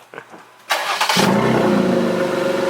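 A starter whirs briefly, then a straight-piped Jeep Wrangler JL engine bursts to life with a sharp rev before dropping into a raw, rumbling idle that continues to the end.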